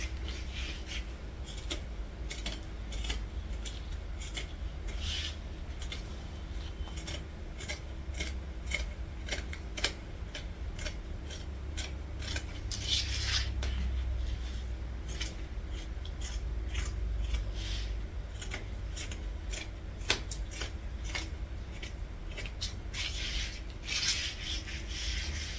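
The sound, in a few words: scissors cutting fabric for a dress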